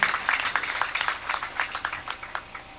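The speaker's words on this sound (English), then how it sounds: "Let's give him a round of applause" An audience at a university matriculation ceremony in Ghana applauds with steady, moderately loud clapping that gradually thins and fades over a few seconds.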